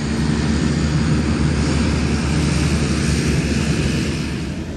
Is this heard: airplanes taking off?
yes